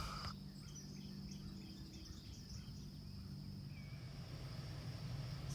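Cicadas drone in a steady, high-pitched continuous buzz outdoors, with faint chirps and a low background rumble, and no voices.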